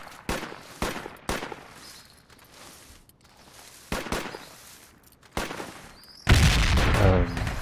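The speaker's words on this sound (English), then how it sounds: "Shooting at us from east too." Enemy gunfire in a video game sounds as a series of sharp, loud gunshots spaced irregularly, ending in a sustained burst of rapid fire. No voices are heard.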